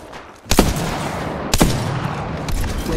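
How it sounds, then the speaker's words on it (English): Gunfire in the Apex Legends video game, two sharp loud bursts about a second apart and then a third, each trailing into a dense rumbling wash of battle noise, with no voices. "Taking fire. Getting shot at."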